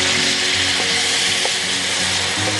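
Gravy sizzles loudly in a pan as it is stirred, a constant close crackle with a few faint scrapes of the utensil.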